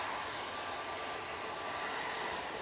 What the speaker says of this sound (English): Coming on next, we have the Jet2 A321neo.